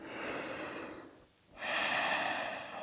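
Full, steady breath during a downward dog pose in a gentle vinyasa yoga practice: a long airy exhale, a brief near-silent pause, then a fuller airy inhale, close and alone with no talk.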